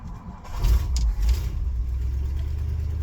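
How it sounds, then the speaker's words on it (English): A classic Ford FE V8 cranks and fires, catching with a couple of loud revving bursts before settling into a steady, close, rumbling idle. "FEs are just the easiest starting engines"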